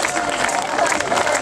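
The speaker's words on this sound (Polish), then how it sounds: "Wielkie brawa dla nich." A festival audience gives a dense burst of applause for the previous year's Grand Prix-winning group, clapping loud and close with a bit of cheering mixed into the crowd noise.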